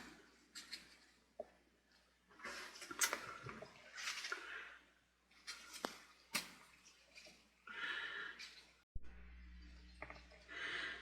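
Resin being poured into a mould for a honey pot trinket bowl, giving faint, intermittent trickles and soft splashes separated by quiet gaps, with a small knock near the end.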